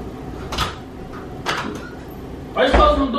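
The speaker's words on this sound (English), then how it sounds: "Why are you closing the door?" An indoor door swings shut with a few soft knocks and thuds, then a louder bump near the end, with muffled voices in the background.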